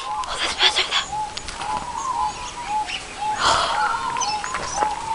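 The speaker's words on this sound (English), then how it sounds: "There's birds everywhere." Birds call and chirp in an Australian outdoor setting, with repeated short cooing or whistling notes over a steady noisy background, fairly close and moderately loud.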